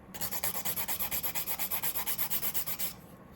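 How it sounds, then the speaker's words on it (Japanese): A nail file scrapes the surface of gel nail polish, a close, steady series of about twenty rhythmic rasping strokes, evenly paced and quick, ending abruptly after three seconds. "こんな感じでお爪の表面傷をつけながら、できればカラージェルのとこまで削ります。"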